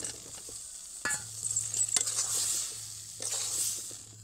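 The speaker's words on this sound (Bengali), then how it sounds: "এইবার হালকা আঁচে বেশ খানিকক্ষণ আলুর সঙ্গে মশলা কিন্তু কষে নিতে হবে" Boiled potatoes are stirred with masala in a pan for oil-free Bengali aloo dum, making a close bright sizzle broken by several distinct scraping strokes of the spoon against the pan.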